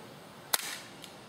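A single sharp crack of a propane-powered airsoft gun firing through a chronograph, close and isolated in a quiet room, followed by a brief rattling decay and a faint click.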